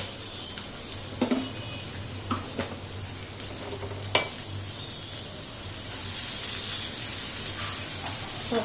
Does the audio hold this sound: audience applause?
no